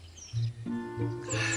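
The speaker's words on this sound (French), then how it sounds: "Voilà le chant des oiseaux qui me réveille" Morning birdsong, a few short chirps and tonal calls heard faintly over quiet room noise in a brief moment.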